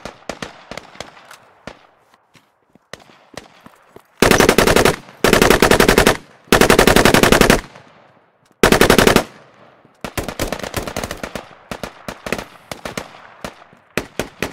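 Gunfire in the video game Squad comes as sharp single shots, then several loud, dense bursts of automatic fire separated by short pauses, followed by more scattered rapid shots.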